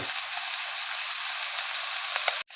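Browned chicken pieces sizzle in a hot pan after salt and black pepper go in, a steady loud hiss that runs unbroken and is briefly interrupted by a sharp knock near the end.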